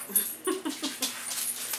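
Close by, a dog makes a brief burst of short, high whimpering yelps while being fed treats, heard alone with no talk.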